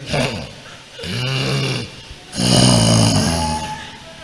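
A preacher giving a sermon imitates snoring with his voice: three drawn-out, rasping snore-like bursts, each about a second long, separated by brief pauses, loud and close.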